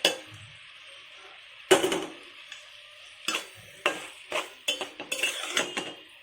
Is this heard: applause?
no